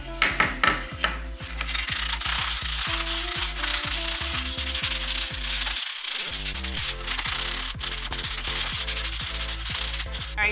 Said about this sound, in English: We sand it a little bit.